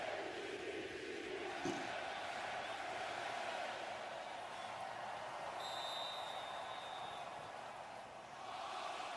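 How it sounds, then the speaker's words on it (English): A football stadium crowd roars during an NFL divisional playoff game between the Houston Texans and the Baltimore Ravens, a loud, steady wall of cheering that holds for several seconds. "Crowd is pumped up."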